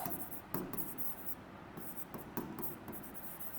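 Pen or chalk scratching across a board as the area of a rectangular agricultural farm is written out, with short strokes and taps in an irregular rhythm, close and fairly quiet over low room hum.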